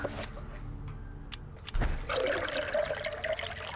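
Rank fluid pours from an urn into a foul-smelling fountain in the video game Eternal Darkness: Sanity's Requiem, a sudden splash followed by a steady, close trickling that continues to the end.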